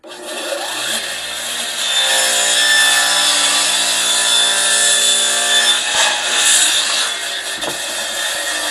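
A power tool cuts through reclaimed wood while a hutch is being modified. One steady, loud, harsh grinding buzz runs for several seconds with little change and no talk.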